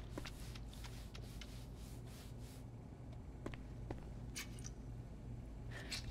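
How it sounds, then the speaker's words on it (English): Steady rubbing and scrubbing as a dirty table is cleaned in the game Crime Scene Cleaner, continuous and close, with a faint low hum throughout and a few sharp clicks. "Gonna clean the table."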